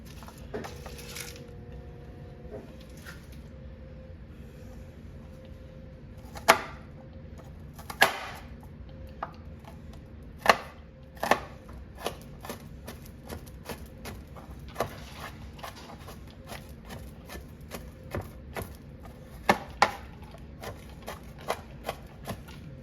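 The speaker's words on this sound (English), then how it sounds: "And I'm gonna chop this up fine." A knife chops a small shallot finely on a cutting board, sharp irregular taps spaced through the stretch, some in quick clusters, fairly close and clear with no talk over them.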